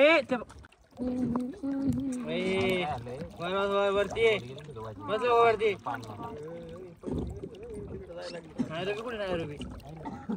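A small boat travels across water on the way to Nairobi, with faint lapping and motor wash sitting beneath near, steady voices talking almost throughout.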